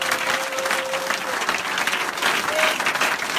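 A church congregation claps and cheers in steady, dense applause to acclaim the Lord, with a continuous crowd roar lasting throughout and brief sustained tones rising above it.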